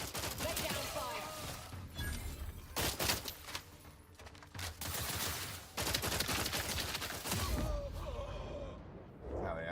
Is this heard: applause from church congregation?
no